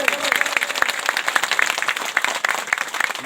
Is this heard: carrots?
no